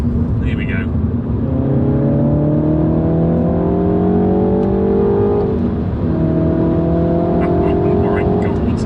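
A Mulgari ICON2 'Warbird' engine revs hard and climbs through the gears, then blips as it rev matches on the way down, loud and close throughout, with a brief voice near the start.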